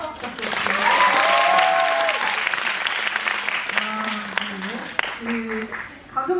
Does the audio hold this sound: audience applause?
yes